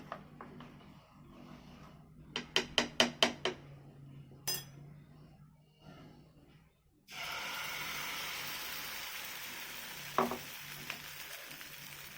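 Batter of ground rice and sour yogurt hits a little white oil in a pan: a few clinks of stirring and scraping come first, then a loud, steady sizzle starts abruptly and keeps going, with a couple of clinks over it.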